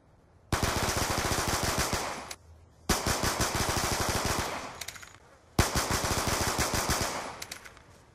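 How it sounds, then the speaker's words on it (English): Twin Tac-45 handguns in Black Ops 2 fire akimbo from the hip in three long rapid bursts, each a dense, loud stream of close shots separated by short pauses. "these next tests are going to see how good the TAC is when firing from the hip"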